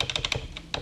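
Quick, light clicks of computer keyboard keys pressed in a short burst, roughly eight crisp taps spaced unevenly, close and fairly quiet.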